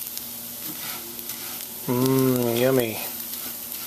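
Garlic, onions and rice browning together in a frying pan, a steady close sizzle that runs throughout while a voice briefly speaks over it.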